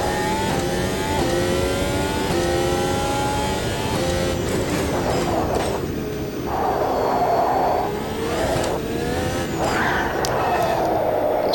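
A Formula 1 car engine in the F1 2022 racing game revs continuously, loud and close, its pitch rising through gears and dropping on shifts with no pauses.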